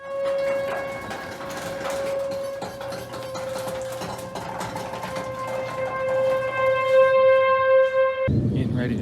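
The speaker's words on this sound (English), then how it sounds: "the sirens are going off" A steady, wavering siren tone drones continuously in the distance, holding its pitch with slight rises, under faint background clatter, cut off abruptly near the end.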